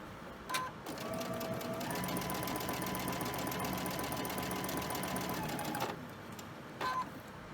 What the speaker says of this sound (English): Let's go ahead and put them together. I mean, go ahead and sew them.